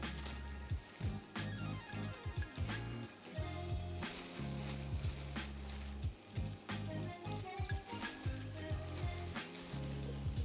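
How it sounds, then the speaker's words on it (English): Chicken pieces hit a hot pan and sizzle quietly, with intermittent crackles and clattering handling sounds at close range. "when these go into the pan, what I should hear is a little bit of a sizzle."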